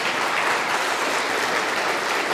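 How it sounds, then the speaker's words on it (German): Brief burst of steady audience applause at an open-source geodata conference, dense and even throughout with no talking over it. "Einen kurzen Applaus, bitte."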